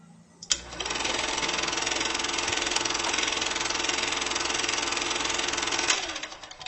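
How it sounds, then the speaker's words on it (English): A Moore jig grinder from the 1960s or 1970s runs continuously, a loud steady high-pitched whine with a dense mechanical buzz that starts abruptly and stops abruptly after about five seconds. "This is a jig grinder from Moore, dating back to 1970s, maybe even 1960s."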